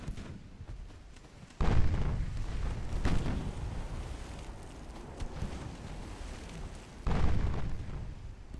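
Big naval guns from a 1918-era battle in Ultimate Admiral: Dreadnoughts fire at destroyers, producing three deep booms spaced a few seconds apart, each trailing into a low rumble over steady battle ambience.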